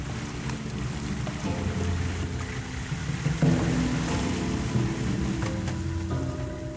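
Makeshift river ferry raft crossing in Madagascar, with a steady low rumble of water and wind around the craft, moderately close, continuous with occasional knocks and shifts.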